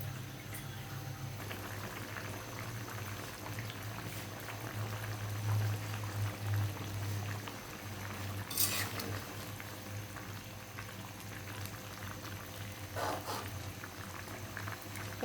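A rohu fish curry with tomato and gravy simmers on a gas stove over low flame, giving a soft, steady bubbling with a faint hum underneath and no voices.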